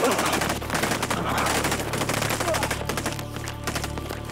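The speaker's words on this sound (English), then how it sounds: "Everyone is firing live ammunition." Live-ammunition rifle fire on a military training exercise across open ground, a loud dense fusillade of rapid overlapping shots that keeps going without a break, with a steady low rumble underneath.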